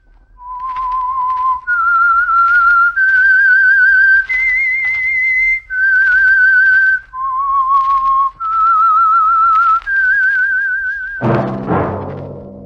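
A lone, clear whistled melody of sustained notes with slight vibrato, stepping up and down in pitch, close and loud, ending in a brief noisy burst.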